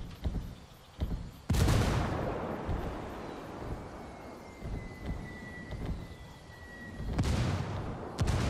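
A frag grenade goes off in Ghost Recon Wildlands as a sudden loud burst, followed later by a second blast amid scattered gunfire and a faint whine in between.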